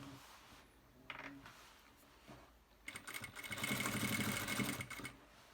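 A sewing machine stitching a summer dress runs in short, faint bursts, a few quiet ticks followed by a fuller rapid whirring run near the end, close but low in level with no talking.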